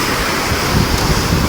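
Big Pacific Ocean waves crash and surge under strong wind, a loud, close, continuous roar buffeting the microphone, with no voices.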